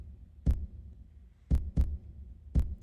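A kick drum built from Halo game sound effects, heavily pitched down: four deep, thumping low hits with soft decaying tails, the middle pair close together, over a faint steady hum.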